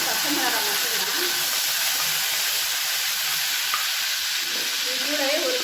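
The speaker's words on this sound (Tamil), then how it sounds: "இது எல்லாமே நல்லா பொரியட்டும்." Green chillies and lentils sizzle and fry steadily in hot oil in a pan, a loud continuous hiss with faint stirring, no speech over it.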